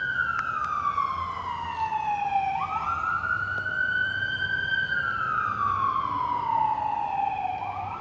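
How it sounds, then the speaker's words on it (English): Emergency vehicle siren wailing in downtown Los Angeles near the Union Station west parking lot, a loud continuous rising and falling tone that sweeps steadily across the whole stretch over low traffic rumble. "You hear the sirens."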